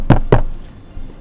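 Two sharp knocks on a door, close and loud, in quick succession, followed by quiet room tone.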